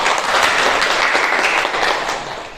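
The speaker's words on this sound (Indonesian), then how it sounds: "Boleh tepuk tangan?" Classroom audience at a university teaching session applauding, a loud, dense burst of many hands clapping together that holds steady and then begins to fade near the end.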